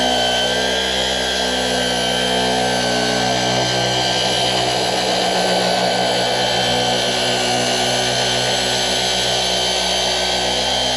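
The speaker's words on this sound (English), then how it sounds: "We'll just use the feature on this where you just push up and it slowly rotates" A rotary polisher buffs scratches out of an S550 Mustang trunk lid, a loud steady whine and hum from the pad held close, constant throughout with no speech.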